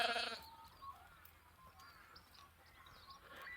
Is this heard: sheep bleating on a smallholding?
yes